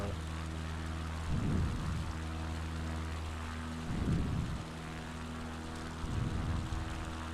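A steady, droning propeller-aircraft engine hum in Microsoft Flight Simulator 2020, flying low over Seattle, runs throughout, with three brief louder swells at regular intervals.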